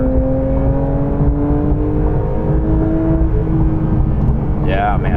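A Porsche 992 GT3 engine rising in pitch as the car pulls through a gear, a loud, steady, close-up engine drone heard from inside the cabin, with a brief shift-like change near the end.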